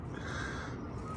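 Birds being fed in Monterey, California, with crow-like caws sounding close over a dense, noisy background for a brief moment.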